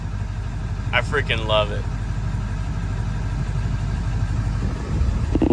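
A 2000 Ford F-350 dually pickup idles in a steady low rumble close by, with someone speaking briefly over the engine.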